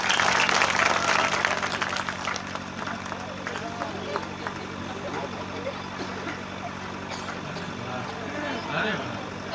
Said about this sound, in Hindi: ताली वाली बजा दे भैया।